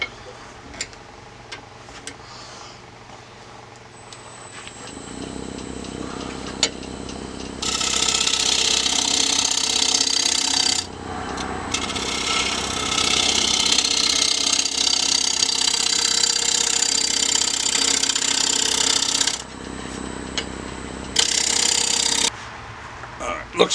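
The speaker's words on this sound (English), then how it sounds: "I'm taking the scraper and angling it, try to smooth it some more" A steel scraper works over the inside of a beech live-edge bowl on a lathe, smoothing away tool marks and tear-out, with a steady grinding, rasping texture that runs in long passes over the motor hum and pauses briefly between them.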